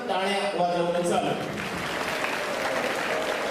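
An audience at a junior college celebration of NEET results claps in a dense burst of applause, with voices audible among the clapping throughout.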